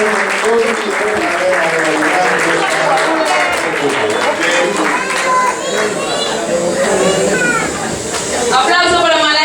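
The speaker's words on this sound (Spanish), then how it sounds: "Aplauso para Malaki Macondo, que se emociona con esta alegría." At a festival of Afro-descendant cultural expression, a crowd applauds loudly and continuously while voices call out and talk over the clapping.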